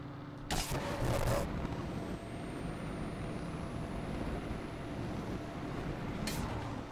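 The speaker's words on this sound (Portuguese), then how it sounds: "Mas vamos testar o nitro." A Mustang's nitro boost in the Saints Row video game: a loud broadband whoosh bursts out early over a steady engine roar, then a second short burst flares near the end, with no talking.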